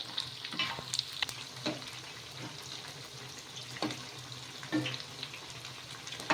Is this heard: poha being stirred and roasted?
yes